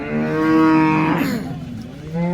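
A cow at a cattle market gives one long, loud, close moo that rises and then trails off, with no talking.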